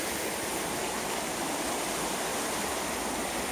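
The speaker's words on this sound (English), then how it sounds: "there's a lot of water in the Bannock Burn" Bannock Burn near Stirling, running high with snowmelt from the hills, gives a steady, close rush of flowing water that holds constant and loud throughout, with no voices.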